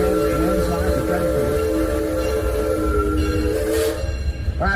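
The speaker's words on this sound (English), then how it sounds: "we opened up the little mini mine train ride just for you" Small mine train amusement ride rolling along its track, a steady loud rumbling clatter of the cars with a sustained tonal whine running throughout, fading out near the end.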